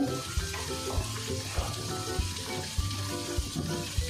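Chicken with spices such as ground red chili sizzles quietly in a pan as it is fried, a steady crackle punctuated by regular soft knocks of stirring.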